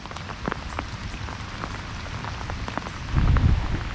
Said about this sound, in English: it beats just sitting around waiting for this rain to go away.